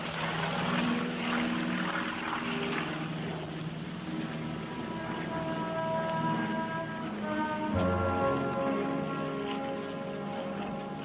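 A WWII-era propeller airplane drones steadily overhead for the whole stretch, its engine tone shifting slightly as it passes, loud and continuous with no talk.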